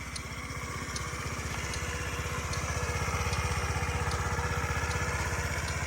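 A Honda Today AF-67 four-stroke fuel-injected scooter engine idles steadily and quietly, a fine even putter that runs close and unbroken with no one talking.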